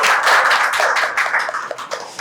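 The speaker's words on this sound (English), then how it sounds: "Let's clap for Harshita." Students in a classroom clapping for a team at a senior-led learning session, a dense burst of handclaps that carries steadily for about two seconds before thinning out at the end.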